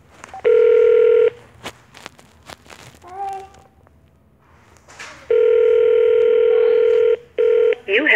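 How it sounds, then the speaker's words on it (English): Telephone keypad tones dialing a number to the White House: two long runs of steady beeping tones with a shorter burst after, separated by brief talk and a voice, loud and close. "So now we'll try the other phone number too."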